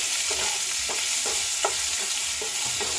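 Sour dal with mango being stirred in a pan, a spatula scraping in a regular rhythm of swishes over a constant close sizzle, with no voices.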